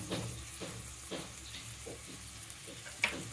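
Mixed vegetables for tava pulao are stirred and fried in oil in a pan: a steady close sizzle broken by several scraping stirs and one sharp clink of utensil on pan.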